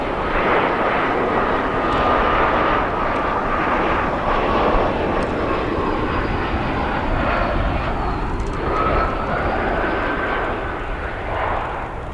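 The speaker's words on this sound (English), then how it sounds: "That United Embraer 175 long range, operated by United West Airlines, arriving from Des Moines, Iowa" A United Embraer 175 regional jet arriving at Chicago O'Hare International Airport roars steadily overhead, a loud, continuous engine whine and rumble with no voices, easing slightly near the end.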